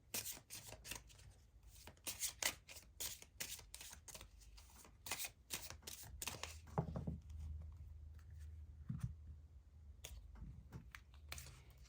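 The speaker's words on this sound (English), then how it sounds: "we are going to draw 4 cards from your witchlings" Tarot cards being drawn and shuffled from a deck, a run of quick, close, crisp card snaps and slides in irregular bursts, with soft handling rustle between them and no talk.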